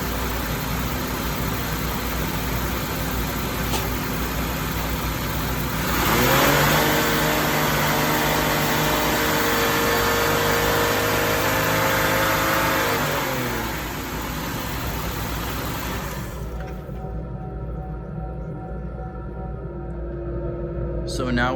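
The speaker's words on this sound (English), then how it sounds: "now we're gonna ramp up the RPM and see what the voltage drop is then" Engine of a 2007 Buick Lucerne revving up from idle, held at a steady higher pitch for several seconds before dropping back, steady and close under a continuous mechanical hum.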